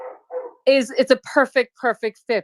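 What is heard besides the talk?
dog barking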